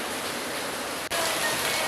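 Heavy rain pouring down, a steady broadband roar that drops out for an instant and then returns slightly louder.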